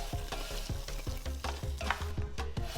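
Chopped vegetables sweat in a darkening gumbo roux in a pot, with repeated scraping strokes of a spoon in a rough rhythm over a soft, steady sizzle, heard up close.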